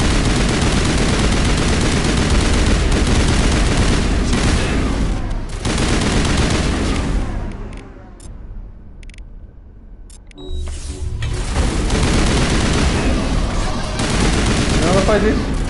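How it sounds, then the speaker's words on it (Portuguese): Sustained automatic gunfire in the video game Mass Effect, loud and dense rattling bursts that break off briefly into quieter ambience before the shooting resumes with full intensity. "Eu não sei onde vocês estão atirando"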